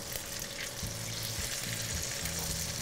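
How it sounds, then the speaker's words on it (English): Polenta circles sizzling and frying steadily in hot oil and butter, a constant crackling hiss with a few soft clinks, close and moderately quiet. "now I'm gonna put the polenta circles into the pan that has the hot oil and butter"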